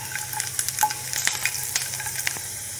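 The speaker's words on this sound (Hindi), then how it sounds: "कढ़ाई में हम डालेंगे एक चम्मच तेल, लहसुन, मिर्च" Garlic and chili fry in a spoonful of oil in a wok, a steady close sizzle with light stirring scrapes and small pops, no voices.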